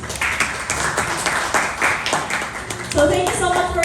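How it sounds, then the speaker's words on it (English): Audience applause at a Philippine press event for a singer's concert tour, steady clapping throughout with voices talking over it and a louder burst near the end. "Let us all give them a round of applause,"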